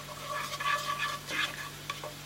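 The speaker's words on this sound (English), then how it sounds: "We're just gonna let that simmer, mix it up a bit." A garlic mixture simmering in a pan gives a gentle, low sizzle, broken by a couple of soft scraping stirs, close and fairly quiet.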